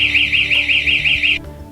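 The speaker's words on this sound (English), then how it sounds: "Siren activation occurs when the knob is turned just a few degrees to the left or right." A Knob Sentry HD doorknob alarm sounds its loud piercing siren, a rapidly warbling electronic wail repeating about six cycles before cutting off abruptly, very close.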